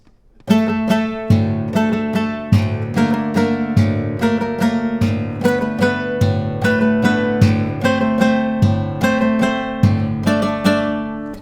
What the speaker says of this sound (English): turning those thumb strums into a percussion sound like this